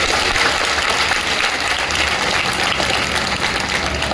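An audience at a Bhagavat Katha religious discourse gives a sustained round of applause, a continuous, fairly loud wash of many hands clapping with no talk on top.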